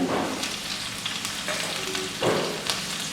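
Ginger garlic paste sizzling and frying in a pan while cooking Ambur mutton biryani, a steady close crackle with a few soft stirring scrapes, no voices.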